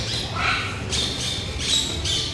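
Large macaws, including blue-and-gold birds, squawking loudly and harshly in repeated bursts close by, with a low background hum beneath the calls.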